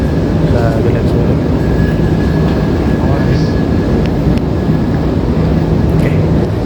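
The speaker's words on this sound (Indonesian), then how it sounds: "sekarang kita lagi ada di stasiun MRT-nya nih" Jakarta MRT underground train at a station, a loud continuous rumble and hum with a faint high whine running steadily under the din.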